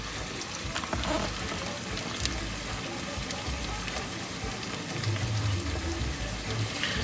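Greens wilting in a hot pan on a home stove, cooked alongside shrimp, give a steady broadband sizzle and hiss that holds for several seconds with a slight swell toward the end, close and continuous with no talking.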